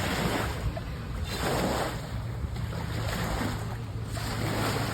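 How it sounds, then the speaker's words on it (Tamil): Water washing and lapping at Ousteri Lake, with wind buffeting the microphone, a steady broadband wash that swells in a few soft surges over several seconds, with no talking. "அப்புறம் தண்ணி சவுண்டு கேட்குறீங்களா?"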